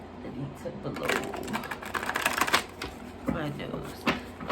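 Playing cards being shuffled close up in a quiet room, a run of rapid riffling flutters and soft snaps in bursts lasting a few seconds each.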